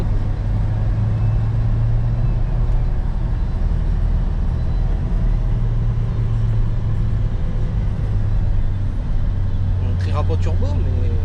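A Renault Espace 4 with a 2.0 turbo petrol engine and 260,000 km rumbles along on a test drive, a loud, steady low engine drone inside the cabin with a brief higher squeak near the end.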